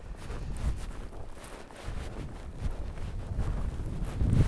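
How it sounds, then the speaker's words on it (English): Wind gusts buffet the microphone outdoors during a February 2021 Texas snowstorm, a low, rough rumble that swells and fades in uneven waves without talk. "And it's windy."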